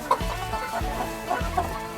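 Chickens cluck inside a coop, with several short, close clucks in quick succession and no other sound over them.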